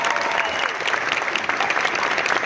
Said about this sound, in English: I think you deserve a round of applause for the best.